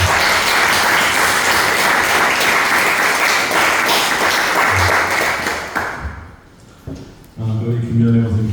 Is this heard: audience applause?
yes